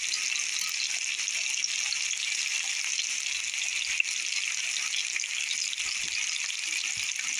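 Chicken browning in butter in a pan over medium heat gives a steady, even sizzle that carries on unbroken at moderate loudness, with no voices over it.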